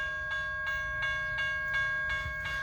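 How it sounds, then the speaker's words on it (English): A Union Pacific train speeds through a river road crossing in Chapel Hill, Tennessee, with a sustained horn chord over regular rhythmic clacking of wheels, fairly close and continuous. "It's crossing."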